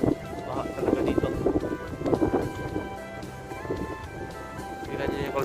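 Strong gusting wind during a sand storm buffets the microphone with a rough, rumbling roar, while someone talks over it.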